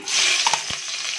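Garlic sizzles in hot cooking oil in a frying pan, a steady close, bright hiss with a few quick clicks of stirring partway through; no voices.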